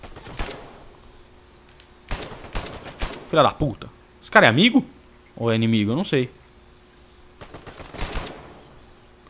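Gunfire in the Uncharted 4 multiplayer beta, sharp shots and short bursts spread through the clip alongside someone speaking over the game.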